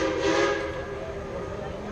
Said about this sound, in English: Those two whistles you just heard tell us that our engineer has received our all clear